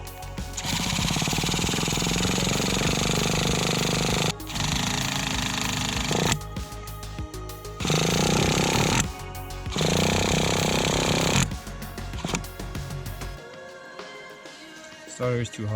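A water-cooled Traxxas 2.5 nitro RC engine loudly cranks and buzzes on the starter in long bursts with brief pauses between, ending in clattery mechanical noise.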